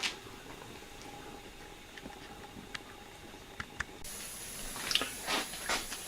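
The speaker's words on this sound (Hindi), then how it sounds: "एक कप पानी हम पहले डाल चुके थे और हमने 1 कप पानी और डाला है।" A cup of water is poured into a cooking pot of kunna gosht, a Chinioti clay-pot mutton stew; a quiet background gives way to a splashing pour in the last couple of seconds.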